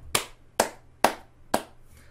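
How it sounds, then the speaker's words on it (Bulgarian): Four slow, evenly spaced hand claps ring out sharp and close, each one isolated against a quiet background with no voices. "Бавно иронично пляскане"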